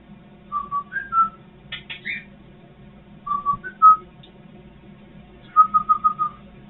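Short melodic whistled phrases, a few rising and falling notes, then a quick run of evenly spaced chirps, over a low steady background hum.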